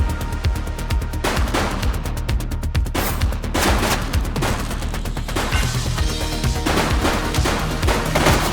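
Rapid bursts of gunfire from the police game The Precinct, with dense volleys of close, loud shots crackling in repeated fusillades over several seconds.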